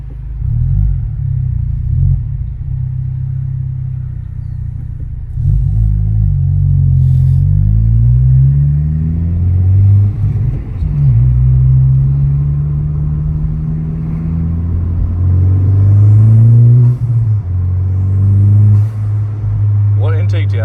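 A 2023 Honda Civic Type R FL5 fitted with an Invidia R400 exhaust pulls away, its loud, close exhaust drone rising and falling through several gear changes, with brief talk underneath.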